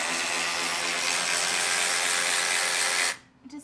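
A ratchet wrench fitted with a 10mm socket backs off a bolt on a bus bar, giving a steady dense clicking that runs loud and close for about three seconds before stopping abruptly, followed by a faint knock.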